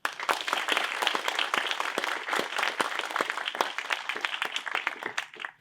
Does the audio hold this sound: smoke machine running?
no